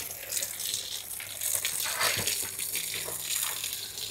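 Water gushes and splashes steadily over soil in a village yard, a continuous close pouring wash with small spatters throughout.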